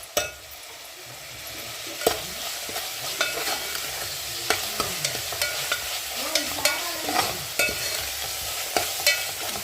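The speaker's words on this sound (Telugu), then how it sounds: "కరివేపాకు కొత్తిమీర వేసుకొని ఒక తిప్పేసుకొని ఎసురు వాటర్ పోసేసుకున్నాం" Rhythmic scraping strokes of stirring curry leaves and coriander for upma in a hot pan over a steady sizzle of frying, close up with no talking.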